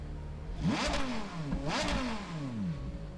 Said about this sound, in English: It really is like a screaming, howling engine. V10. Up in the revs.